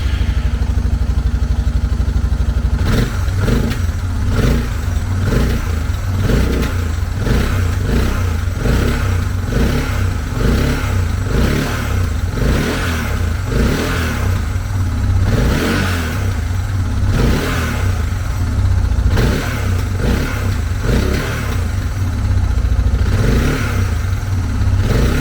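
Suzuki DR650 motorcycle engine running after a carburetor rebuild, loud and close, with repeated throttle blips rising over a steady rumbling idle across the whole stretch.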